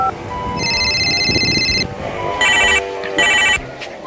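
Mobile phone ringing during a call back, a bright electronic ringtone in repeated bursts, one long tone followed by two shorter pulses, over some background noise.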